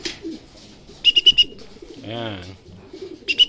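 A racing pigeon coos low and throaty right after landing at its loft on a summer training flight, with sharp chirps and a man's short spoken remark around it.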